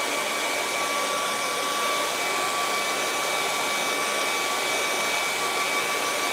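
A hair dryer blows steadily over wet acrylic paint on a canvas of a burnt bushfire sunset, a loud, constant whooshing airflow with a faint motor whine, close and unbroken with no talking.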